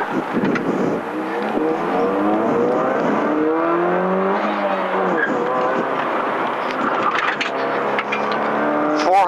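A rally car engine revs hard and loud, rising and falling in pitch through several gear changes, close and continuous with no talk, on the Marystown South stage of Targa Newfoundland 2006.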